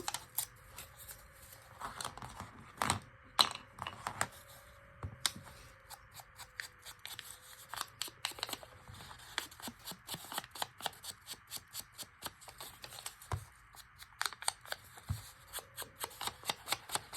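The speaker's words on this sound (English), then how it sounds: "And just tear all these edges and ink them." Paper edges being torn from a paper sack for a St. Patrick's Day decoration, heard as close, dry rips and crinkles arriving in irregular bursts, with short pauses between them and no talking.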